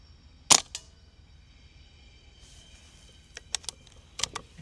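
A single sharp crack from an Umarex 850 M2 air rifle fired at an outdoor target on a breezy day. It stands out loud against quiet surroundings, followed by a few faint clicks of handling.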